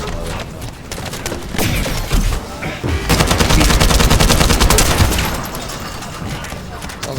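Man-O-War-style rifle gunfire in a Call of Duty Black Ops-like video game: loud, rapid automatic bursts that swell into a sustained barrage and then taper off.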